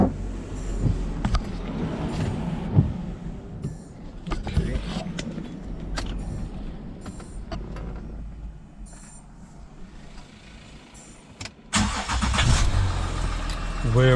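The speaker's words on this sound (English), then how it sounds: "Now let's start the car." A Ford Territory SZ engine turns over and settles into a steady idle, with a louder revving burst near the end; clattering handling noises occur throughout.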